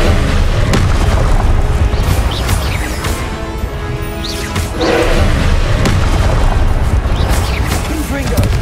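Confringo fire spells blast repeatedly in Hogwarts Legacy, loud deep booms and crackling bursts arriving in quick succession with whooshing sweeps between them, while a voice talks over the combat.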